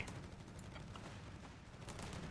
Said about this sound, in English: Lots of machine guns fire in the north.